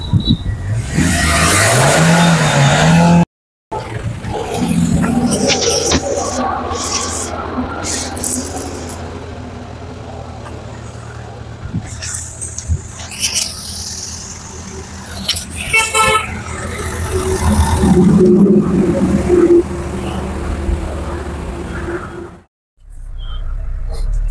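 A Hyundai i20 on a trial drive after carbon cleaning: the engine revs and pulls under load, a horn toots several times, and people talk over the running car.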